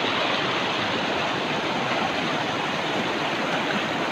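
A strong river current at the Himogaan river bridge construction site rushes in a loud, constant roar of water, close and unbroken throughout, with no voices.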